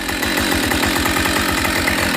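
A Husqvarna 572 XP chainsaw runs during testing in Australia, its engine giving a loud, close, continuous buzzing drone with a rapid pulsing beat and no voices.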